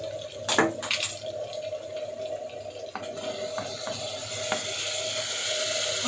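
Onion paste sizzling in hot oil in a pan while rajma masala is being cooked, a steady close frying hiss with a few brief clatters and stirring sounds near the start.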